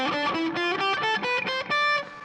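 Electric guitar with distortion played slowly with economy picking across all strings, a quick run of about ten bright, buzzy picked notes climbing upward, close and loud with no talking.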